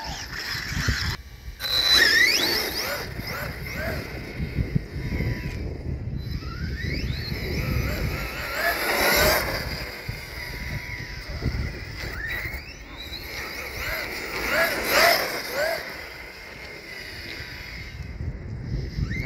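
A Redcat Volcano EPX Pro electric RC car on a 3S LiPo battery whines and squeals in rising and falling bursts as it races around, with rustling and wind noise between runs.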